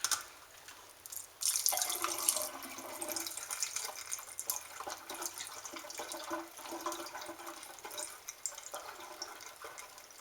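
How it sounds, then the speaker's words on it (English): Homemade kombucha is poured into a bottle over a sink, a steady splashing liquid stream that starts after a moment and runs on, fairly close. "Okay, so I'm pouring it in again, another bottle."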